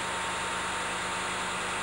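A dredger's diesel engine of almost 2,000 horsepower driving a suction pump drones steadily and evenly throughout, a loud continuous hum with broad machinery noise and no voices.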